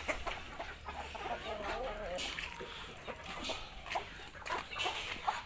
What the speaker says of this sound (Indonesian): Supaya mentok-mentok dan ayam cari makan di kebun.